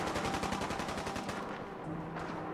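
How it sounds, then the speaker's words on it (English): Rapid automatic gunfire in Fallout 4, a fast string of shots in the first second and a half, then scattered fire and a rumbling tail; fairly faint and distant. "And gunfire, I'll let them fight it out."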